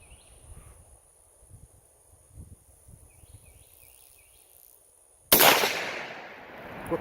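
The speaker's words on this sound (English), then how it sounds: "I'm gonna fire a shot and see where it goes" A single loud rifle shot from a 100-year-old Mauser sporting rifle with a set trigger, fired while sighting in, cracks sharply after a stretch of quiet outdoor ambience with insects, then its echo decays slowly.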